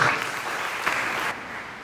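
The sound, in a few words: church congregation applause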